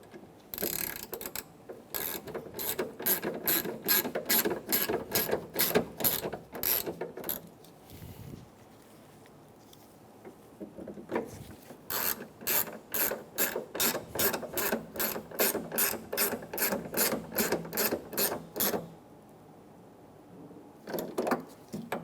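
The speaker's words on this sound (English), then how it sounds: "Install the screws for the camera." A ratchet drives in the tailgate camera screws on a 2014-2018 Chevrolet Silverado 1500, giving rapid bursts of close, crisp clicking with a short pause midway before another long run of clicks.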